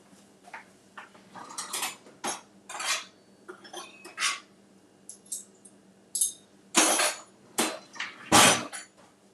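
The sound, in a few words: cooktop being taken out and set up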